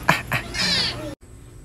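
A cat meows up close, two quick short calls followed by a longer drawn-out meow that cuts off abruptly into quiet room tone.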